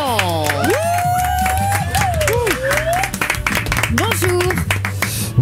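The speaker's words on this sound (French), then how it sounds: "Applaudissements pour Lilian." Applause and cheering from a radio studio crowd greet a guest on a French morning show, loud and steady throughout. It runs under a burst of bright jingle-like music and voices.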